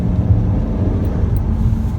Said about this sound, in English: now I'm actually going to kind of accelerate a little bit